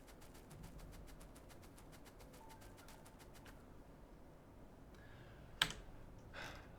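Rapid, evenly paced clicking from a loud computer keyboard, heard faintly and at some distance, stops partway through; a few louder knocks and clatters follow in the quiet.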